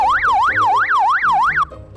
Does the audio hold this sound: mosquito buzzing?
no